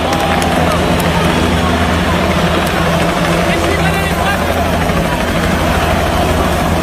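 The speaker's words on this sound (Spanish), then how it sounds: "Este fue el helicóptero que aterrizó en la cancha del estadio Palo Grande de Manizales" A helicopter sets down on the pitch of Palo Grande stadium in Manizales, its steady, loud rotor and engine roar filling the scene without a break.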